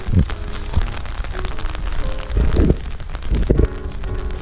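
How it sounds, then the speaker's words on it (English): Heavy rain pattering steadily on surfaces in Sitka, Alaska, a dense continuous wash of drops with occasional louder bursts. "It's begun to rain even harder now."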